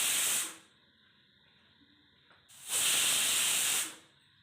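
A pressure cooker vents steam after cooking soybean pulao: two loud, close hissing bursts, each lasting about half a second to over a second, with a quiet pause between them.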